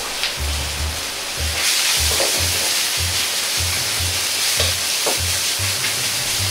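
Vegetables and bean sprouts are stir-fried in a pan with chicken and doubanjiang, giving a continuous loud sizzle broken by a steady rhythm of low scraping tosses about twice a second.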